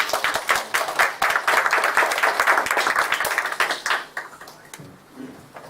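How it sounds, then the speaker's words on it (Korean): A church congregation at a Sunday worship service applauds after a closing prayer, with crisp, fairly close clapping building quickly, holding steady for about four seconds, then thinning out to a few stray claps. "우리 박수 한번 치겠습니다"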